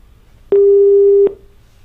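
A telephone line tone sounds after a caller disconnects: a single loud, steady electronic beep of under a second, standing alone against quiet line hiss.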